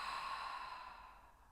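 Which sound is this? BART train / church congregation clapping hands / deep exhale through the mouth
deep exhale through the mouth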